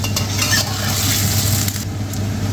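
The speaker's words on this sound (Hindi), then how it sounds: "I will cook chicken" Chicken pieces fry in a pan, a loud, close, continuous sizzle holding steady with a few faint utensil clicks.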